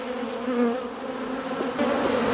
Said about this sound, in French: le reste des abeilles, je vais pouvoir secouer devant la ruche